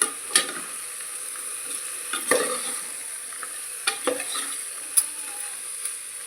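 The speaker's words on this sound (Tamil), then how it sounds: "மல்லியலை மட்டும் சேர்த்து நல்லா கிளறி விட்டுக்கோங்க" Coriander leaves stirred into vegetable pulao in a pan, a spoon scraping and tapping the metal in irregular strokes over a faint, steady sizzle, close and quiet.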